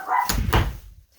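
A dog barks indoors, two close, loud barks in quick succession followed by quiet.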